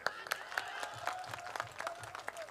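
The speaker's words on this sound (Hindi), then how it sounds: "मैं चाहता हूं एक बार और तालियां बजाएं।" Faint, rhythmic clapping from an audience at a comic poetry gathering, a few steady claps per second rising and falling, heard from a distance.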